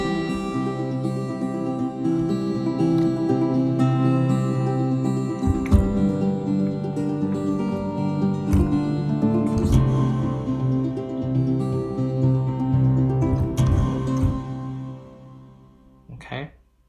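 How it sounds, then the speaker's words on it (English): Layered strings and a plucked balalaika from a cinematic sample library play together in a sustained, reverberant passage, with tremolo-picked notes and occasional accents, fading out at the close. "This is the string and the balalaika, and together sounds like this."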